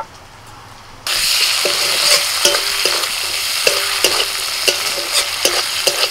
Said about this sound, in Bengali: আদা রসুনটা ভেজে নিয়ে দিয়ে দিচ্ছি টমেটো কুচি